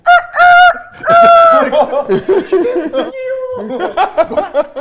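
A person imitates a chicken with a high, harmonic clucking voice, two quick drawn-out squawks followed by choppy, laughing cackles, close and loud, amid a cooking session.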